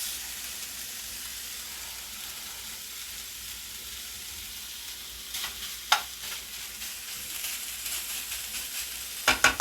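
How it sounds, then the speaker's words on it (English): Garlic cooks in a pan as a ground turkey cheese steak is prepared, a steady low sizzle with occasional stirring scrapes and clinks growing busier toward the end, with no talking. "Let that garlic cook in a little bit."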